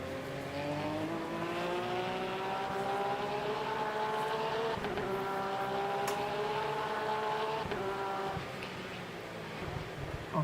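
Hypercar engine in the Le Mans Ultimate racing game at Sebring, a loud sustained high-revving drone with rising and shifting tones and brief gear-change dips, heard alone without talk.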